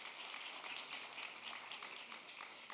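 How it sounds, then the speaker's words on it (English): A summit audience at a panel session gives a round of applause, a quiet, distant wash of clapping that holds evenly for a few seconds. "A round of applause, please."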